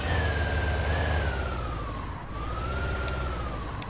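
A motorcycle in the video game Tomb Raider: Legend revs with a steady, loud engine drone. Its pitch sags slightly midway and then climbs again, with no voices over it.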